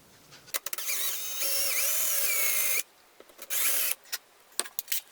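Power drill driving a screw into wood with light trigger taps: two whining bursts of rising and falling motor pitch, the first long and the second short, separated and followed by small knocks and clicks nearby.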